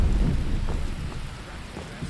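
Crackling, rumbling storm din from a frost spell hailstorm in the video game Skyrim, a dense low roar of pelting impacts and thunder-like rumble that stays steady and loud throughout with no talk.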